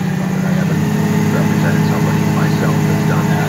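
A John Deere 8450 tractor engine runs loud and close with a steady low drone that holds even throughout, with no clear rise in pitch.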